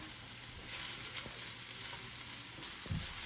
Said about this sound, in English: my pan is heated up. The noodles in there.